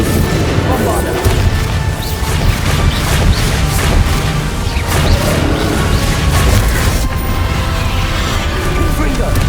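Bombarda exploding spell in Hogwarts Legacy combat: a steady barrage of booming crashes and smashing impacts over a loud battle din, with in-game voices mixed in.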